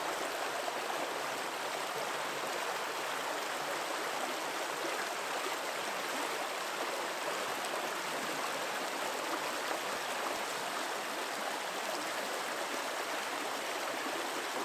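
Stream water flows steadily around a portable turbine, a constant close rushing and gurgling wash with no voices.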